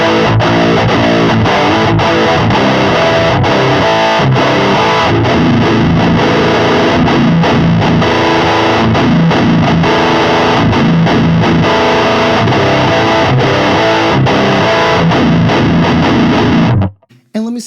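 Heavily distorted electric guitar played through a Boss Metal Zone and a Fortin Grind pedal, a loud, continuous stream of chugging riffs and sustained notes that stops abruptly near the end.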